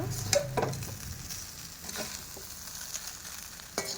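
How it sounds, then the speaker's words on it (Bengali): Chira pulao made with flattened rice and ghee, stirred in a pan after salt is added, with soft frying sizzle and a few scraping clinks of the spoon, close and fairly quiet. "লবণটা দিয়ে নেড়ে নেব একটুখানি"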